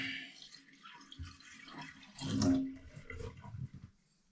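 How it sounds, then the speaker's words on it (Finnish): Water trickles faintly from a tap into a newly fitted cottage kitchen sink, a soft, uneven splashing and dripping heard close by that swells briefly midway. "Pieni liraus, laitetaan tuo tulppa kiinni"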